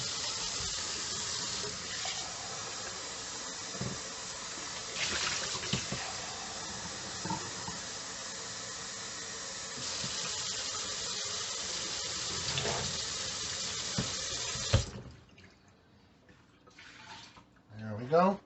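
Cold water pours steadily into an Instant Pot fitted with a silicone insert, a close, continuous running splash and hiss that stops abruptly near the end, followed by faint handling clatter.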